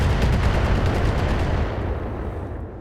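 Heavy weapons fire on the Warhammer in a strategy video game, a dense, loud rumble of rapid blasts that continues throughout and then slowly fades away.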